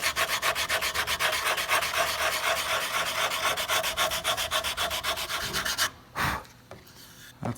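Sandpaper rubs rapidly back and forth across a wooden guitar neck in quick, even strokes, close and loud. It stops near the end, followed by a brief thump and quiet.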